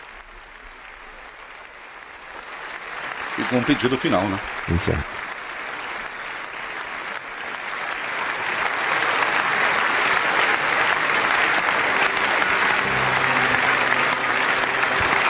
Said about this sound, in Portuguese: Participamos também nós dessas palmas do parlamento.